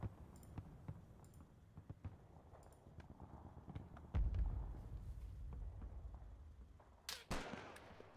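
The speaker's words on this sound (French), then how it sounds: "Ça tire là. Effectivement, ça tire là." Scattered gunshots crack at varying distances in the Normandy war game Combat Mission Battle for Normandy, isolated reports over a low rumble with a sharp, loud burst near the end.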